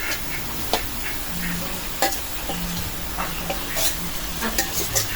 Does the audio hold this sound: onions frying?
yes